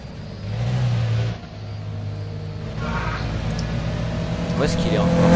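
A car engine in the Roblox game Midnight Racing holds a droning rev, dips, then climbs again as it strains in gear, steady and fairly loud under a talking voice.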